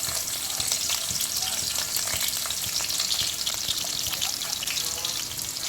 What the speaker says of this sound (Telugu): వీటిని ఇప్పుడు కొంచెం లైట్గా వేయించుకోవాలి.